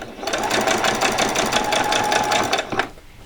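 A sewing machine runs steadily while stitching fabric for Christmas pajamas, a fast, even mechanical rattle held close for nearly three seconds before it stops.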